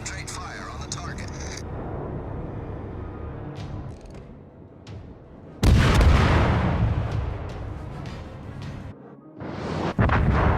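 Naval gunfire in the World of Warships game during a battle with an IJN Hatsuharu destroyer: loud, booming salvos burst out around the middle and near the end over a steady rumbling battle background.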